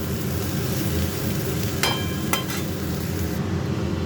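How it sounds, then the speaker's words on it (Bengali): Pieces of jackfruit fry in hot oil in a pan, giving a steady dense sizzle with a couple of brief metallic clinks from stirring and no voices. "এঁচড়টা ভেজে নিলাম"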